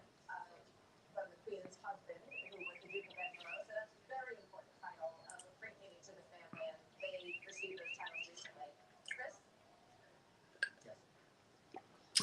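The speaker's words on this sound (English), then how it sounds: "You might hear birds now." Small birds chirp and tweet intermittently through an open window in a room, their calls light and scattered over steady background noise, with people talking nearby.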